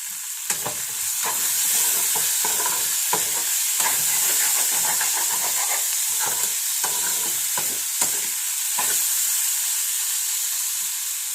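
Ivy gourd stir-frying in a pan over a raised flame gives a loud, steady sizzle with a bright hiss, punctuated by repeated scraping stirs throughout, with no voices.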